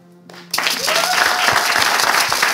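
After a brief tonal sound, audience applause bursts in and continues strong and steady, honouring a woman's leadership at a live event.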